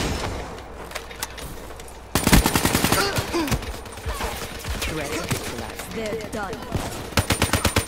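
AK-47 gunfire in the Call of Duty Black Ops III multiplayer beta: rapid automatic bursts crackle close and loud, breaking off and starting again, with a voice briefly talking between them.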